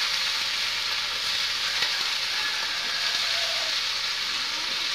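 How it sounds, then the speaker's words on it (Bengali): Potatoes go into hot oil for a chicken curry, producing a loud, continuous hissing sizzle that holds steady throughout with no voices. "আমার তেলটা গরম হয়ে গেছে, তো আমি এখন আলুকে আমি ছাড়িয়ে নেবো"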